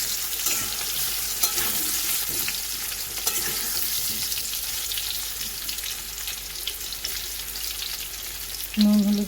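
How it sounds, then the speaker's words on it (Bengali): Potatoes boil in a pot with salt and turmeric, giving a steady, soft bubbling hiss that continues evenly throughout, with a brief clunk near the end. "আমি আলু নুন হলুদ দিয়ে সিদ্ধ করতে দিয়ে দিয়েছি।"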